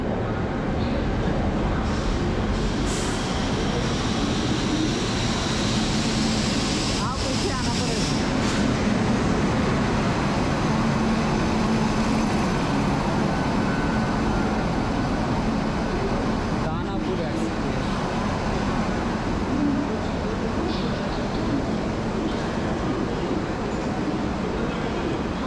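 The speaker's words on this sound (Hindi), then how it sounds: "तो अपनी ट्रेन आ गई है, ये है भाई Danapur express, Danapur super fast express" Danapur Superfast Express pulling into an Indian railway station, a steady loud rumble of rolling carriages and platform bustle throughout, with a few brief clanks and people talking nearby.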